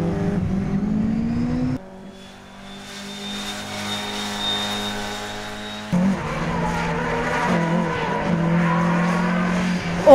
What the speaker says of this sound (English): Awesome spin from the Escort